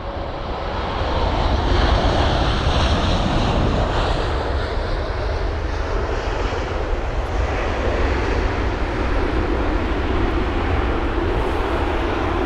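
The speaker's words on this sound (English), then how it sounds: "But really nice landing there from the Air India 787, which had arrived from Delhi" An Air India Boeing 787 arriving from Delhi lands at London Heathrow, its engines a steady loud roar that holds for the whole stretch, with broad rumble and whine and no voices.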